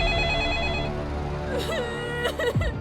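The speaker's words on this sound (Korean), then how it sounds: "그리고 그날 밤 아라에게서 전화 한 통이" A telephone rings at night in an animated story: a steady, repeating electronic ringtone, with a few brief, faint voice-like sounds toward the end.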